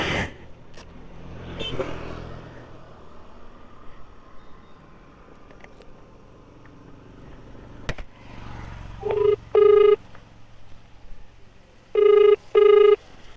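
An outgoing phone call's ringback tone sounds in two short paired bursts near the end, after a stretch of low rumbling background noise, with no one talking over it.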